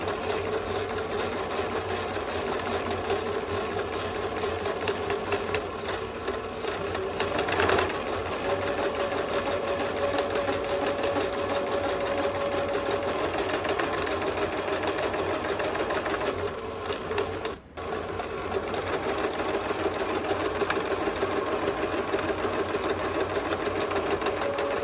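A domestic sewing machine stitches a second seam parallel to the first, guided along the presser-foot edge, with a steady, even mechanical hum and rapid needle chatter for about twenty-five seconds and one brief hitch near the end.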